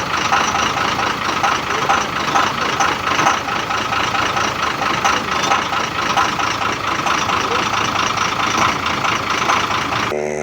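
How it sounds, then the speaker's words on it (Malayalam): A Leyland bus engine idles steadily nearby on a winding hill road, a continuous mid-pitched diesel hum holding at an even level throughout, with no talk over it. "ആ ഒരു ബസ്സിൻ്റെ മൂളക്കം നല്ല രസമുണ്ട്, ആ ഒരു സൗണ്ട് കേൾക്കാനേ, ലൈലൻഡിൻ്റെ ആ ഒരു ശബ്ദം"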